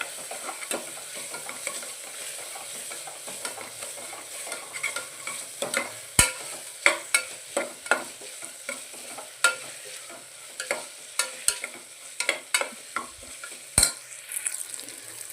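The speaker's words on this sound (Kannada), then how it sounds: "ನಾನು ಫಸ್ಟು ಟೊಮೆಟೊ ಹಾಕ್ಕೊಂಡು ಫ್ರೈ ಮಾಡ್ಕೊಳತ್ತೀನಿ" Tomatoes softening in a pan for palak rice, with a soft background sizzle broken by repeated sharp clinks and scrapes of a spoon stirring against the metal, the taps growing denser toward the end, with nobody talking.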